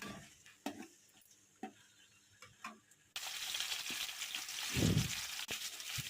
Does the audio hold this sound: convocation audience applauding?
no